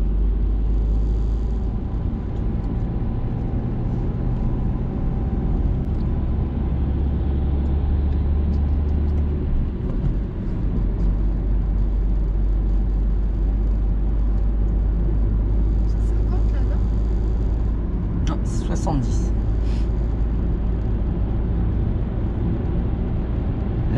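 Steady car engine drone with low road rumble during an early-morning driving lesson for an exam, running continuously under an instructor's and learner's conversation.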